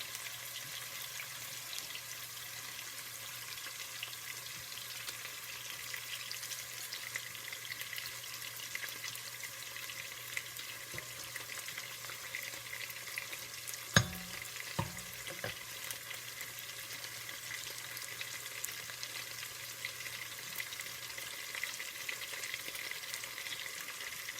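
Smoked turkey fries in a pan with three garlic cloves for a white sauce, giving a steady, fairly faint sizzle throughout with a couple of brief utensil clatters near the middle.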